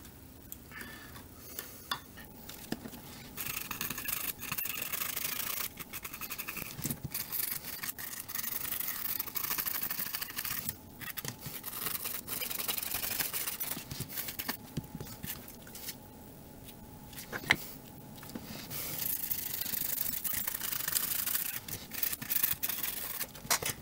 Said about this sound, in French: On va passer un bon petit coup de brosse après ça avec de l'alcool.